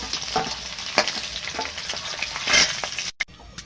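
Salted, turmeric-coated eggs sizzle in oil in a pan as they are stirred and lifted out, with a lively frying hiss and several sharp scraping clatters, then a sudden cut to near quiet at the end.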